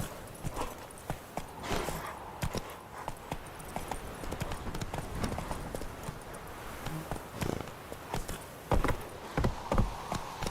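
Steady clip-clop of horse hooves on the ground in The Witcher 3: Wild Hunt, a continuous walking rhythm heard close and fairly loud over a faint ambient game backdrop.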